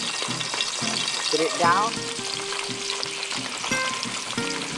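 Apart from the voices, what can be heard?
onions frying in oil in a pan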